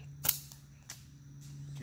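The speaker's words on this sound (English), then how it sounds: "Now we're going to use just a regular slingshot, my shooting one that I hold at, stretch it to its full potential." A regular slingshot fires a 12 mm shot toward a chronograph, giving a sharp snap followed by a second fainter crack, with a quiet hum underneath.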